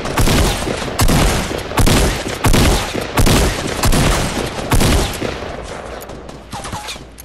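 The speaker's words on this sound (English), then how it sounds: "shots on my six" Repeated bursts of gunfire from a Fortnite 50v50 match, loud and close, arriving in rapid volleys about every second, with sharp cracks and echoing booms filling the battlefield.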